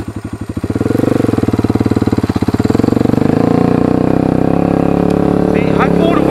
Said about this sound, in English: I'm going to pull away in second gear